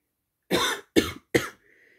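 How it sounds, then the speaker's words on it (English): Three short, hoarse coughs from one adult, close and loud, spaced about half a second apart in a quiet room. A faint tonal hum trails off after the last cough. "I'm coughing"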